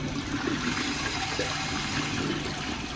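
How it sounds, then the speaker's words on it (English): A Japanese toilet's privacy button plays a recorded flushing-water sound, a steady full rush of running water that holds evenly throughout at moderate volume, with no talking. "you press the button of the music logo, and then you can hear the sound of the flushing water"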